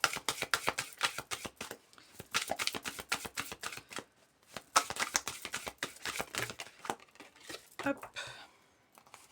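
Tarot cards riffle-shuffled and slapped down on a table in quick bursts of crisp flicking, with brief pauses between rounds and a short spoken word near the end.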